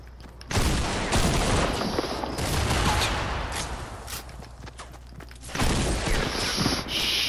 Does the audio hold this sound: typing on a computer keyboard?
no